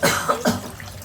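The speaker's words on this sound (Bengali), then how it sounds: "আপনার এখন আবার কাশি উঠতেছে।" A person coughs close by, two quick harsh bursts followed by a third, with a faint watery trickle behind and no talk.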